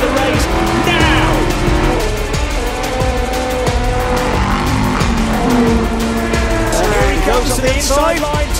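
Several race car engines roar together at full throttle at the start of a 2021 European Le Mans Series race, their pitch climbing as they accelerate, with a commentator talking excitedly over the noise.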